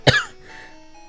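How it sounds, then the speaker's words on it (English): A single sharp, harsh cough bursts out close and loud, followed by a quieter rasping tail that fades within a second. "That was a painful cough."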